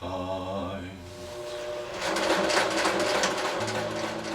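A home sewing machine stitches through cut sweater fabric, its motor whirring steadily and close, slowing briefly then running faster and louder in a continuous mechanical drone, with no speech over it.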